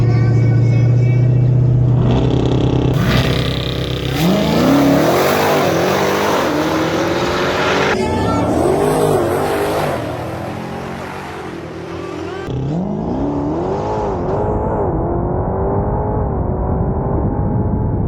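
Dodge Demon 170 and all-wheel-drive C8 Corvette E-Ray with V8 and front electric motors accelerating in a quarter-mile drag race, loud engine roar with repeated rising gear-change sweeps, fading somewhat then climbing again.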